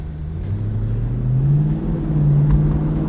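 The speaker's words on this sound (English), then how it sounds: "you get a nice V8 rumble when you have the windows down" A 1996 Chevrolet Corvette V8 on stock exhaust accelerating, a steady low rumble whose pitch climbs smoothly as the engine pulls, close and fairly loud with no voices.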